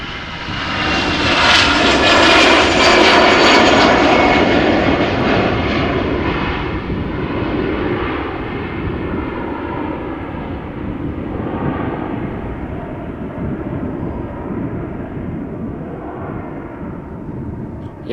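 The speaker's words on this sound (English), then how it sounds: "And it is our first A319 from EasyJet going to London Gatwick" Departing for London Gatwick, an EasyJet Airbus A319 jet thunders close by with a loud, rushing engine roar that peaks early and then recedes in a long, gradually fading rumble, with no voices.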